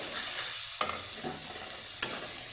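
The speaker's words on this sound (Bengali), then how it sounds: "বন্ধুরা এখানে আমি একটু নাড়িচাড়ি দিব" Taro greens cooked with ginger are stirred in a frying pan, a steady close sizzle with a couple of sharp scrapes of the spoon against the pan.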